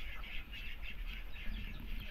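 Ducks penned up on a small farm give a steady, busy chatter of quacks and calls, close and continuous, over low rumbling background noise.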